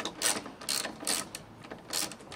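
A ratchet fitted with a 10 mm socket works screws loose in a Mini Cooper engine bay, producing several bursts of close, rapid mechanical clicking separated by short pauses.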